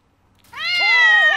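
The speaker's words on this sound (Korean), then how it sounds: "고양이 한 마리가 나와요." A single cat gives one drawn-out, close meow that rises and then bends downward, lasting about a second, clear against near silence.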